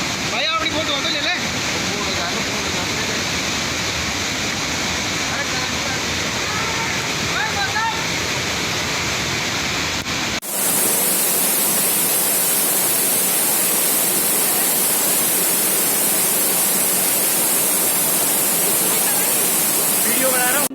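Heavy rain pours down on a city street in Jaipur, India, a dense, loud hiss of falling water and runoff that grows stronger and steadier partway through, with voices faintly underneath early on.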